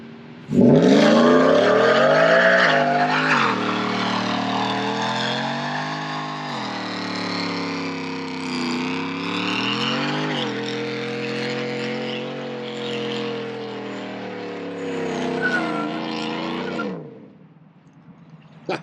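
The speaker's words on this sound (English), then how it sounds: "burning the tires" A car does a tire-burning burnout with a loud, sustained engine roar that rises and wavers in pitch for about sixteen seconds before cutting off abruptly.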